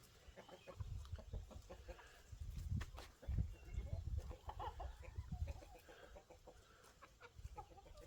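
Baby chicks and hens in a backyard pen cluck and peep close by, a busy run of short, irregular calls with scratching and shuffling noises throughout.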